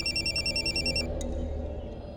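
A mobile phone ringtone repeats in quick electronic trills for about a second, then stops, over a steady low indoor background hum.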